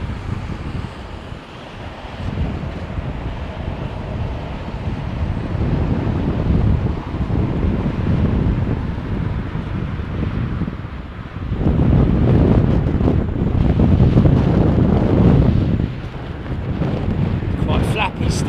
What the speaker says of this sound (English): Quite flappy still. Wind still whipped up.